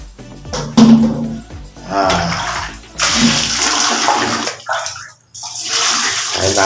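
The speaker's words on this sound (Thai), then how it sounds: "จากนั้นเราก็ใช้น้ำทำความสะอาดนะครับผม" Water poured from a container to rinse a yellow-stained toilet bowl, a loud close splashing gush in several bursts with brief pauses between.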